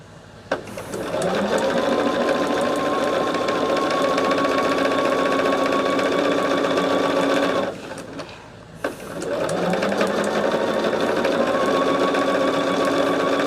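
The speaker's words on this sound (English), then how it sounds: "as I'm sitting here sewing" A sewing machine stitches jelly roll quilt strips in steady, even runs, loud and close, with a short pause near the end before the whirring stitching starts again.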